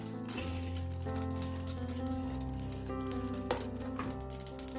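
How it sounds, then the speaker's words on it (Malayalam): Steady crackling sizzle of whole spices, including cardamom, frying in hot oil, close and continuous, with a low background hum and occasional stirring clinks. "ഇതൊന്ന് വറുത്തെടുക്കാം നമുക്ക്"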